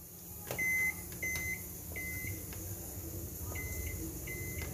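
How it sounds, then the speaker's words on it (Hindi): A microwave hums steadily while a series of short electronic beeps sounds in pairs, close and clear, with no voices. "अभी हम लगाएंगे माइक्रोवेव में पाँच मिनट के लिए"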